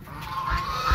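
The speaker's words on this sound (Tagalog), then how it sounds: "So, ito yung mga pato" Ducks (pato) on a small farm in Digos, Davao del Sur, honking and quacking in a brief, fairly close burst over steady outdoor ambience, with no talking.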